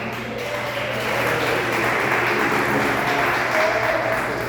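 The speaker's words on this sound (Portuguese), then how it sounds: "exaltar o Senhor com palmas bem alegres para Jesus" A church congregation claps joyfully and steadily, a loud, even roar of many hands, with faint vocal exclamations blended into the applause.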